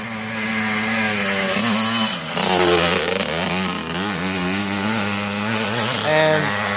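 A 1990 Suzuki RM125 two-stroke dirt bike buzzes past at a track, its high revving engine rising and falling in pitch as it accelerates nearby, with a voice talking over it.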